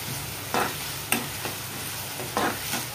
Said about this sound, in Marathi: आपल्याला थोडासा तेलामध्ये परतून घ्यायचा आहे।